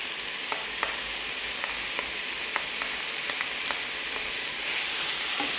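Mushrooms sautéing with salt cod in an oiled pan, a continuous close sizzle broken by several sharp crackles and light stirring scrapes, with no talking.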